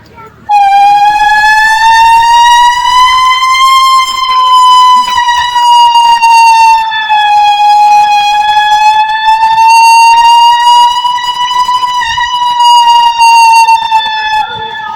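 A mimicry artist at a school arts festival imitates a fire engine horn, one long, loud, steady wailing tone held for many seconds with slight rises and falls in pitch.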